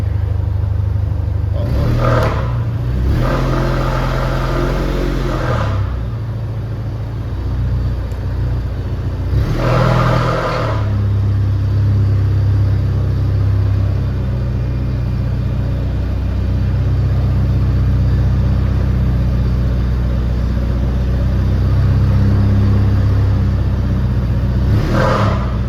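A car engine revs up in repeated surges over a steady rumbling idle while a chain is yanked taut to pull, the bursts of acceleration loud and close, with a long sustained run of engine drone between them.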